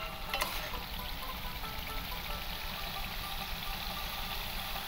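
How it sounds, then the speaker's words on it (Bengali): Spice masala with garam masala frying in oil for egg korma, a dense, continuous close sizzle at an even level, with a brief stir near the start. "আমি ভালো করে মশলাটা কষিয়ে নেবো যতক্ষণ না মশলার গা থেকে তেলটা ছড়ে।"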